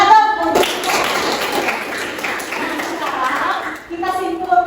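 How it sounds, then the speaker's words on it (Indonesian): A class of students clapping hands together in a classroom, a short burst of scattered clapping at moderate distance between stretches of a voice talking. "Tepuk tangan dong."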